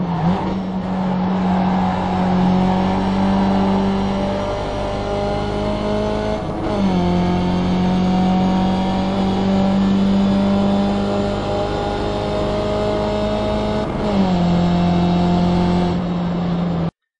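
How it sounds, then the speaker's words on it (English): A race car engine in iRacing at Watkins Glen holds high revs and bounces off the rev limiter in a buzzing, stuttering drone, with brief dips and re-climbs between long stretches of steady loud whine. "I let the thing bounce off the rev limiter."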